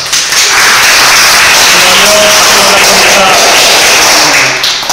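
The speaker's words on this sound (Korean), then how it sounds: "큰 박수로 맞아주십시오" Audience applause welcomes artist Park Jae-ho to an artist talk at Space22: a loud, dense, steady wash of clapping hands that fills the room and holds for the full stretch.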